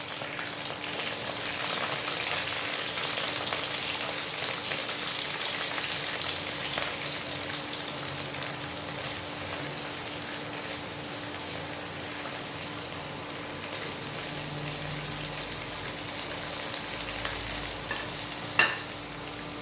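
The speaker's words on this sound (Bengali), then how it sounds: "এটাকে আমি একটু হালকা করে এই 2-3 মিনিট জাস্ট হালকা করে একটু ভেজে নেব" Onion and capsicum frying in white oil in a wok, a steady close sizzle running throughout with faint stirring and a single sharp utensil clink near the end, no voices.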